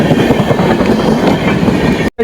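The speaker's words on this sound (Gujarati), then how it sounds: "પેલી ટ્રેન આવે તમને બતાવું. હા જો ટ્રેન" A train rolls past close by on railway tracks, a loud steady rumble with rhythmic wheel clatter throughout, cutting off abruptly near the end.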